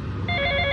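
A telephone bell starts ringing briefly, a bright sustained electronic ring rising over a low room background.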